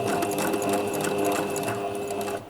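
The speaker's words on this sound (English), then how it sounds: "And then we're going to sew down" A sewing machine stitches down fabric on a crocheted popcorn-square bag, its motor running in a steady, close, continuous whir for the whole stretch with no talking.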